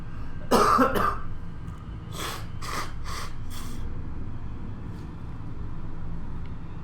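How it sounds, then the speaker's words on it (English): A forceful nose blow near the mic, followed by several shorter snorting blows, over a steady low hum of background traffic. "I'm just going to blow me nose again."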